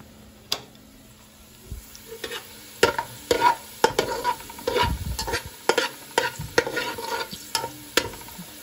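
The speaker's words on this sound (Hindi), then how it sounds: "प्याज हमारी ब्राउन हो रही है" Onions frying until brown in a pan, a soft sizzle broken by repeated stirring scrapes and spoon knocks, close by and irregular, no talk.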